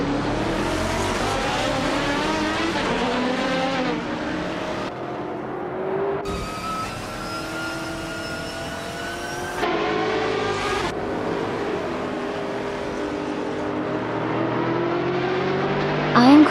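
Race cars, including a 2021 Chevrolet Camaro in the Trans Am class, scream through gears in a racing video game, engines revving and shifting with abrupt tonal jumps, steady and loud throughout with a brief squeal at the end.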